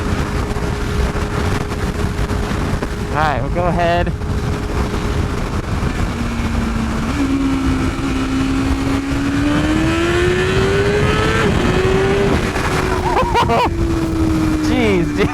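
A BMW S1000RR superbike accelerates hard in first gear on a street, its engine note climbing steadily under heavy wind rush, with a rider briefly speaking early on.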